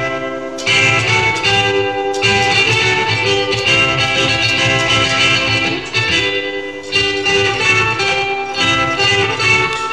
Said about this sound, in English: in the surfing preset, my electric ukulele now sounds like this